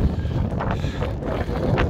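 Wind buffets the microphone on a cold, cloudy Scottish mountain summit near Ben More Assynt, a loud, constant low roar with gusty swells and no voices.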